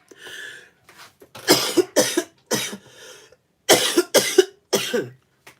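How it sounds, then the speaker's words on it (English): A run of harsh, close coughs from a persistent cough in two bursts, several sharp hacks each, with a little breathy throat noise before them. "It's just a really persistent cough, man."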